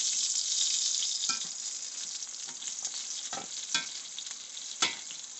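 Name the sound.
chicken browning and sizzling in a pot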